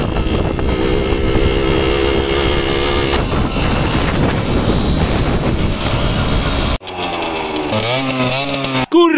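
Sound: Simson motorcycle engine running, slightly choking

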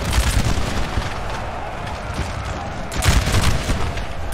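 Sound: musket volley gunfire, bullets striking ground, Napoleon Total War video game

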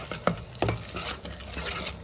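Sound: prawns frying with masala in a pan

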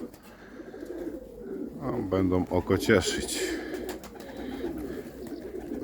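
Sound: pigeons cooing

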